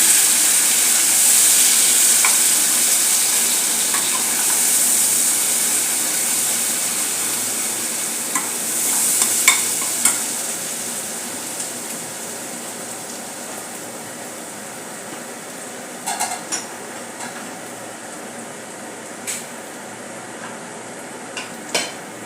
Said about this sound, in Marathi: तयार केलेले ते घालून घेतो वाटण चांगले परतून घेऊया